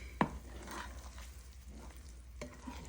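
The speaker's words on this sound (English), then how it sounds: "So we're going to stir in those spices." Ground coriander and spices are stirred into butter chicken in a pan, giving a faint low sizzle under soft scraping stirs, with a sharp utensil knock near the start and another toward the end.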